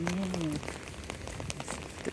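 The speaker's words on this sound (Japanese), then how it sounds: "雨やね。" Rain falls steadily outside a DIY-converted Mazda Bongo camper van during a car-camping night, a soft patter of scattered drops on the surface, with a brief voice near the start.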